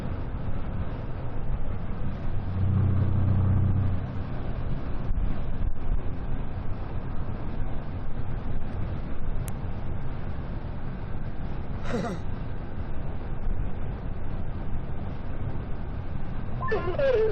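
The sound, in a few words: strong wind buffeting a storm chaser's car on the road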